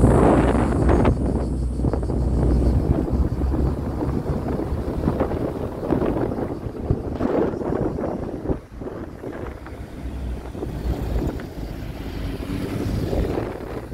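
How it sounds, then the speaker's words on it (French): Steady wind rushes and buffets outdoors in the Provence countryside, a loud, continuous low roar that holds across the whole stretch with no voices. "Il y a un petit peu de vent"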